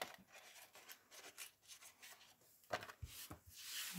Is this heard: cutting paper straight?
yes